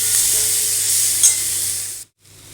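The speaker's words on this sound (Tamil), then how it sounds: "இப்போ வெங்காயம் கருவேப்பிலை போட்டாச்சு." Onion and curry leaves sizzle loudly in a frying pan for a radish curry, a close continuous hiss that cuts off abruptly, then resumes more quietly.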